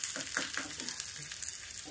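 Tempering spices for sambar crackle and sizzle in hot oil, a close, bright frying hiss punctuated by quick popping bursts.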